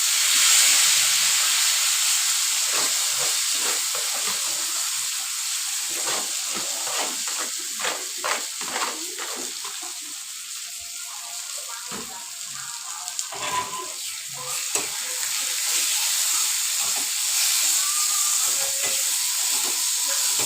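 Fenugreek seeds fry in hot oil as a steady sizzle and hiss, with crackles and pops spread through the whole stretch and no talk.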